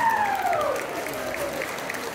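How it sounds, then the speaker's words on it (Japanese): Audience applause at an Eisa festival in Nago, Okinawa, for a local youth group's performance: steady clapping from a crowd, held at an even, moderate level throughout, with a faint sliding tone at the start. "もう一度大きな拍手をお願いいたします。"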